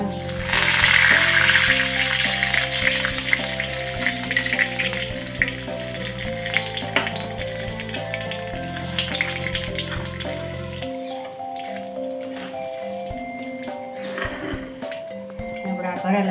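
Asafoetida, mustard seeds, cumin and curry leaves sizzle in hot oil for stuffed okra, a dense crackling hiss under steady talk and background music, thinning out after about eleven seconds.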